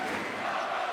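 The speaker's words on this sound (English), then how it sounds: "receives a nice applause from these fans" Basketball crowd in an arena applauding and cheering as a player checks out of a Champions League game, a dense, continuous roar of clapping and voices.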